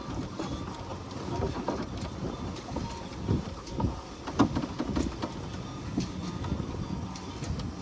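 Sailboat under sail in the wind off Seattle in the evening: water sloshes and splashes against the hull in uneven surges, over a steady bed of wind noise, with no voices.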